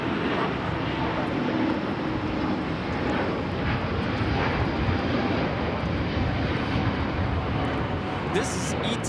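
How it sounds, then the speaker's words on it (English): An ITA Airbus A350-900 takes off for Rome, a steady, loud jet roar filling the whole clip as people talk over it. "621 taking off to Rome on the A350-900"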